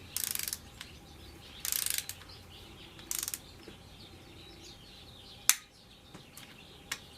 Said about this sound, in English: These bolts get torqued to 97 inch-pounds.